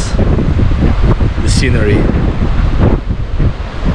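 Wind and surf at Phra Nang Cave Beach in Thailand, heavy gusting buffeting the microphone over rushing waves, loud and continuous, with a person talking over it.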